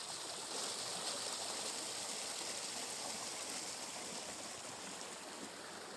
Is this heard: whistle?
no